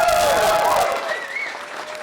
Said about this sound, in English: And a big round of applause there for our finalists.